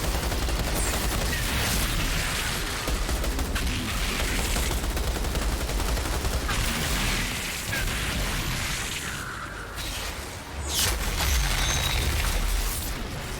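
Gunfire in the video game Outriders, a dense, continuous wash of weapon fire and explosions with loud bursts and pops layered over game effects, held at a constant high level throughout.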